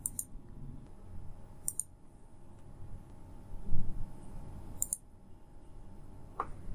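Computer mouse clicks during software work, a few sharp isolated clicks spaced apart at close range, with quiet low hum between them.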